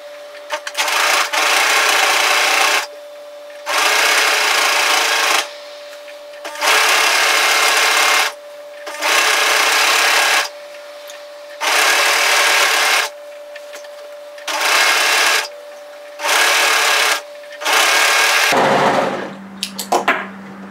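An overlocker sergeing the shoulder seam of a wrap hoodie runs in a series of loud, steady whirring bursts of a few seconds each, separated by short pauses, with a faint hum and brief handling noise at the end.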